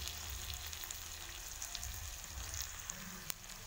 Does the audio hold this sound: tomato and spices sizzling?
yes